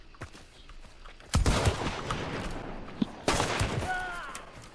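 Two loud, sharp gunshot blasts in Hunt: Showdown crack about two seconds apart, each ringing out with a short echoing tail, and a smaller report sounds just before the second.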